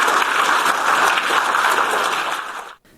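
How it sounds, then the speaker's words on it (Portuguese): Loud, dense standing ovation from members of the European Parliament after a speech by Zelensky, sustained without pause before cutting off abruptly near the end. "Após seu discurso, Zelensky foi aplaudido de pé pelos eurodeputados"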